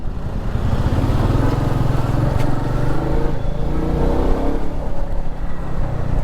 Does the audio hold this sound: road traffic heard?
yes